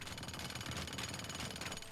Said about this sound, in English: we have a jackhammer, which literally goes through everything